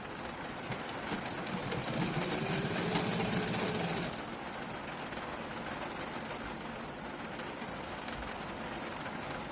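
A sewing machine stitches the sleeve of a nightie with a steady, fast mechanical whir for about four seconds, then a softer continuous hum follows.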